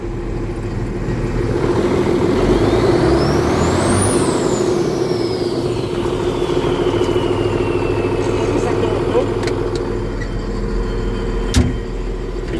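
An HTZ tractor with a Cummins 8.3 engine revs as a loud, steady drone that climbs and then holds on a sustained roar for the whole stretch, with a brief knock near the end.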